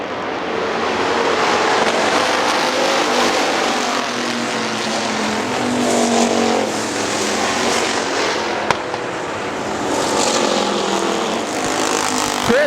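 Factory stock race cars roaring around Hartford Speedway Park, a steady dense engine drone of a pack passing continuously, loud and sustained with no breaks, engines rising and falling slightly as cars circle.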